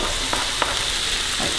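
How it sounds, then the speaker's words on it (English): Vegetables such as sugar snap peas, peppers and mushrooms stir-fry in a pan for a Thai green curry, with a steady close sizzle and a few light stirring clicks. "stir fry these for a further few minutes before you add in your coconut milk"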